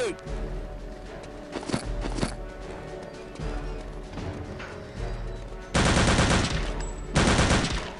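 Automatic and single gunfire bursts from Return to Castle Wolfenstein, the World War II shooter, with scattered shots early and two loud sustained volleys near the end, heard alongside game ambience.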